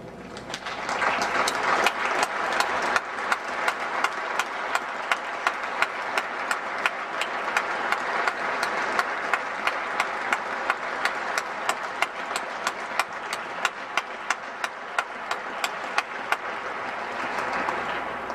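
Steady audience hand clapping for standing service members at a New York City portrait ceremony, a sustained, even wash of applause from a crowd, moderately distant and continuing without pause.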